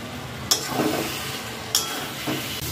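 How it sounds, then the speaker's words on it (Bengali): Bottle gourd simmering in milk in a pan over a high gas flame, with a soft steady bubbling hiss and a few sharp scraping clicks of a spoon as it is stirred. "নেড়ে দিতে হবে, কারণ গ্যাসের ফ্লেমটা আমার বাড়ানো আছে আর দুধটা খট করে নিচের দিকে লেগেও যেতে পারে"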